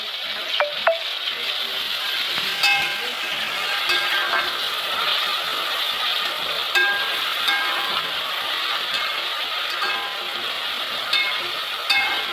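Green peas frying in oil for a hotel-style tomato bath dish, a steady close sizzle with occasional light clicks of stirring throughout.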